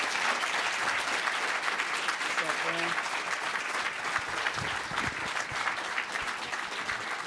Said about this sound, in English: please give another round of applause for Jesse